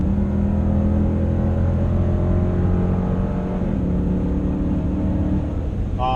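A 2017 Dodge Durango R/T engine in sport mode revs with a loud, close, deep rumble, its pitch stepping up and holding across several seconds before settling, with no talking.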